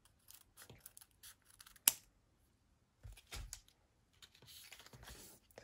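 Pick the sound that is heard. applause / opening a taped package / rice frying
opening a taped package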